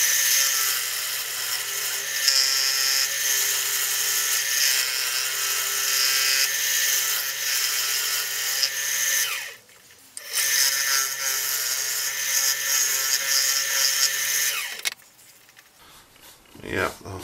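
A wood lathe spins a crotch wood bowl while a tool rounds over its edge near the chuck. It makes a loud, steady, close whirring hum with a brief dip in the middle, then winds down near the end.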